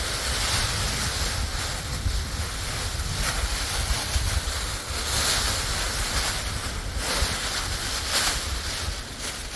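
Steady, strong wind roars and buffets the microphone throughout, a continuous broadband rush with gusts swelling and easing.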